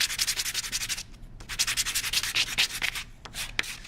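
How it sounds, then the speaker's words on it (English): Sandpaper rubbed by hand on a wooden toy part, working through 80 and then 120 grit: close, steady rhythmic scrubbing strokes in quick back-and-forth bursts, with a short pause and a few sharper scrapes near the end. "So I'm just going to sand this as smooth as I can."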